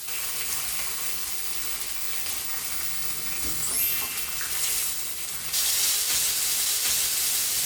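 Pork slices for ginger pork fry in a generous layer of oil, giving a steady, loud, close sizzle with a bright hiss that swells slightly toward the end, with no voices.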